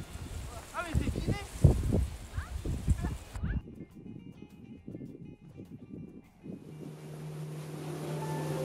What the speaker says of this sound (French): Le lendemain, toujours avec Mathis et Marie, nous effectuons un tour en bateau pour aller voir les fameuses cathédrales de marbre